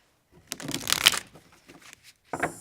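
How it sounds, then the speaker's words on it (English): Tarot cards being shuffled in two bursts: a longer riffling flutter, a pause, then a shorter quick riffle, close by with no talking. "One more shuffle, and then we will get going with this month."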